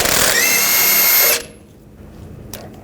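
Power tool with a 24mm socket spinning off a jam nut on a 2009–2017 Volkswagen Tiguan inner tie rod, a loud high whir lasting about a second and a half, then stopping abruptly to near quiet.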